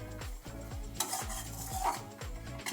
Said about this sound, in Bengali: ভালো করে আর একটু ভেজে নিচ্ছি।